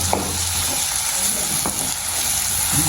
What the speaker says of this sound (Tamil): முட்டை தனி ஒரு பக்கத்தால் அம்மா வதக்குறான்